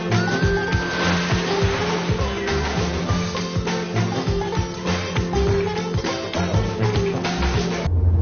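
A car drives along a winter road toward a ski resort, heard from inside as a steady, loud broadband rumble of engine and tire noise that continues without a break.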